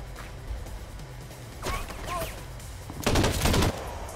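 Sniper fire in the crime shooter game Crime Boss: a sharp shot near 1.7 seconds, then a heavier, louder burst of gunfire around 3 to 3.7 seconds, set against steady low game ambience.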